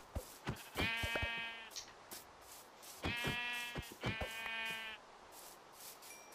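Three drawn-out, buzzy sheep bleats from Minecraft, each lasting about a second, sounding over a hiss of background noise with a few soft clicks between them.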